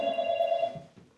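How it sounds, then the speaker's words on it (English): An indoor telephone rings with a steady electronic tone that fades after about two-thirds of a second, followed by faint room noise. "That's the phone, Ken."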